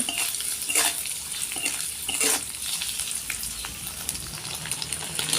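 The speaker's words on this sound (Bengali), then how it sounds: "যেহেতু আমরা নুন হলুদ দিয়ে পনিরটা ভাজছি, তাই আমাদেরকে কিন্তু কন্টিনিউ এটাকে নেড়ে যেতে হবে" Paneer cubes fry with salt and turmeric in a wok, giving a continuous sizzle broken by repeated scraping stirs and light metal clinks, close up and with no talking.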